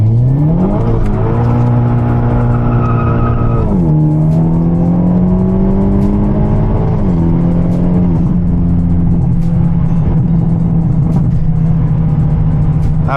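Hyundai Elantra N with traction control off accelerating hard, engine revving up through rising pitch sweeps with shifts, loud and close, no talking.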